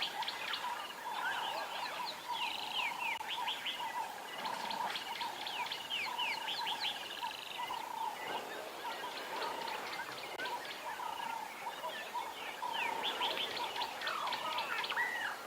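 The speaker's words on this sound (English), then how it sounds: "There are so many birds around, and it's nice and green and lush." Many wild birds call together beside a dam and drainage line on a green morning safari, a dense, continuous chorus of chirps, trills and squawks, some near, others farther off, with no speech.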